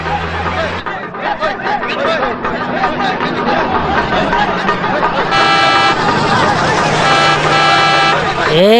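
A vehicle honks its horn repeatedly amid a crowd's chatter and festival bustle, the horn tones growing louder and steadier in the second half as it draws near.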